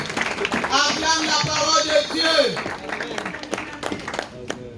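A church congregation bursts into applause and cheering, acclaiming the word of God, with dense clapping mixed with raised voices and shouts that swell and fade over a few seconds.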